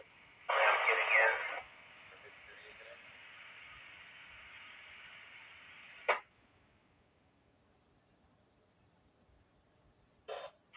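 A weak, broken ham radio transmission on a UHF net comes through as a hissing, band-limited burst, then a long fainter stretch of noise cut by sharp squelch clicks, with no clear words.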